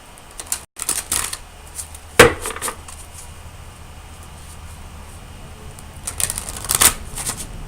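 A deck of oracle cards shuffled and handled close by, with a few crisp riffling bursts and a sharp slap of cards separated by quiet stretches.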